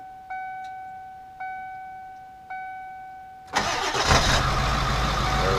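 Car engine cranking with three separate chime-like starter attempts, then firing up suddenly and running loud and rough with a broadband roar; the car has a smoking fault.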